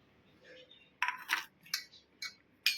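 Chopped onion tipped into a cooking pan for a Gujarati dhokli vegetable curry, with a few sharp clinks and scraping clatters of a utensil against the pan, close and moderately loud.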